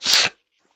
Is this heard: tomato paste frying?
no